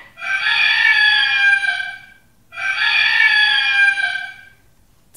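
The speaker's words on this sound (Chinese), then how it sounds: "鸡叫了两遍了" A rooster crows twice, loud and close, each long call rising and trailing off with a brief quiet gap between them over a faint background.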